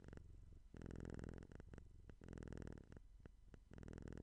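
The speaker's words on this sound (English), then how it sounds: "I love that she purrs with me." A domestic cat purring close up, a rhythmic rumbling purr pulsing in repeated breaths with short pauses between, alone with no talk.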